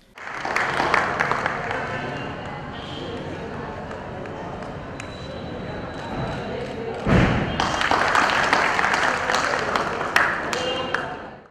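Applause from spectators at an all-India railway gymnastics competition for young gymnasts, a busy crowd wash with thumps and movement noise, swelling louder in the second half, under a voice.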